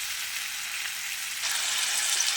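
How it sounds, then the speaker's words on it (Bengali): Shrimp rubbed with salt and turmeric sizzles steadily in hot oil in a pan, a close, continuous hiss of light frying that swells a little louder partway through. "এবার চিংড়ি মাছটা আমি একটু হালকা ভেজে নেব"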